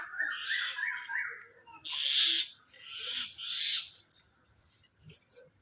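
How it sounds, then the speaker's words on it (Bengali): Common myna birds call noisily nearby in harsh, squawking bursts, several loud outbursts separated by short pauses over faint background noise. "শালিক পাখিগুলো চিল্লিয়েই যাচ্ছে, দেখো"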